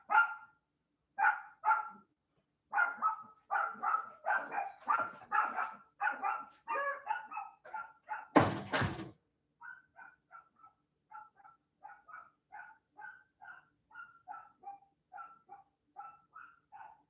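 A dog barks in a rapid series of loud, close barks, a sharp clatter cuts in midway, then lighter, quieter barks and yips continue in a steady rhythm, with no talking.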